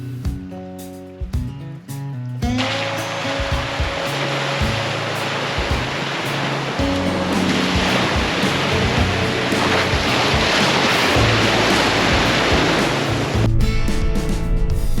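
High creek water after a storm on California's Central Coast rushes in a loud, continuous broadband roar close by, swelling in after a quieter start, with no talk.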